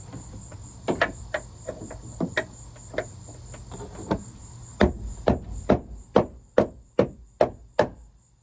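Sharp hammer strikes drive a part into place, a dozen or so spaced blows that grow louder and more regular toward the end, over a steady high insect-like whine in the background.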